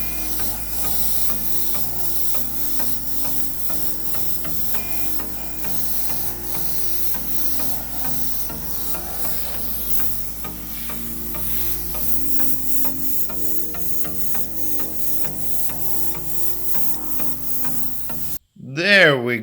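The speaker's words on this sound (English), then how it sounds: "We're going to grab our trusty Piñata alcohol inks, put it in our airbrush" An airbrush sprays alcohol ink onto sneakers, producing a continuous close hiss with faint mechanical whirring behind it for most of the clip, ending in a brief louder burst.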